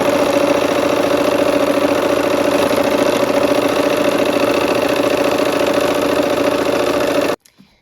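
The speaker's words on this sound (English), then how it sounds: "we're going to go ahead and sew these on" A sewing machine stitches quilt blocks together in a loud, rapid, steady mechanical whir with a fine rhythmic patter that runs continuously for about seven seconds before stopping abruptly.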